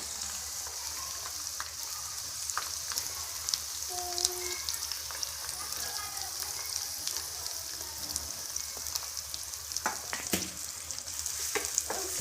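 Onions frying in butter with cumin and mustard seeds in a pan, a steady close sizzle with light crackles and occasional stirring scrapes, no voices.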